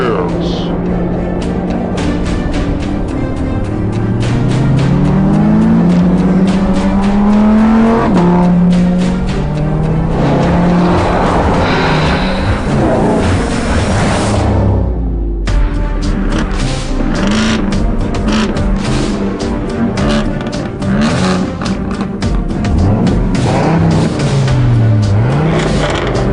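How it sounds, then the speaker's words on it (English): Supercars racing, among them an Audi R8 V10 Plus, with loud engines revving and climbing through the gears, shifting pitch and passing close, while someone narrates over the noise. "here's the Teutonic stud, the Audi R8 V10 Plus. And none of them stand a chance"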